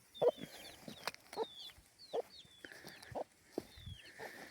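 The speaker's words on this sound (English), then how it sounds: "There's at least 2 cockerels in there as well." Chickens and young cockerels on a smallholding cluck in short bursts, with higher chirping calls from other birds scattered through; the clucks are moderately close and there is no talking.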